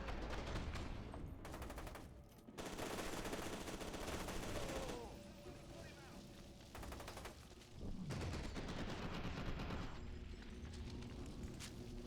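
Rapid bursts of automatic gunfire from a gun in the video game F.E.A.R. 2, loud and close, in several long volleys separated by short pauses, with clattering steps and faint game sounds between.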